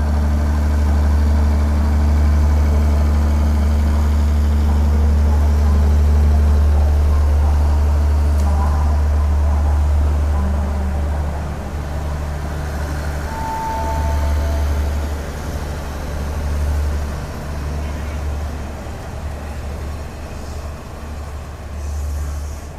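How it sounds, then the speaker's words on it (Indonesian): A Thai night train from Sungai Kolok and Padang Besar rumbles with a deep, steady engine drone as it departs Hat Yai Junction station, easing slightly in loudness partway through, with faint clanks over the low hum. "Ini kereta yang dari Sungai Kolo dan Padang Besar baru diberangkatkan dari stasiun Hatia Junction"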